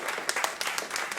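An audience applauds during a panel interview about the Sound of Philadelphia on a cruise, a brief burst of scattered hand claps with crisp individual slaps, moderately close.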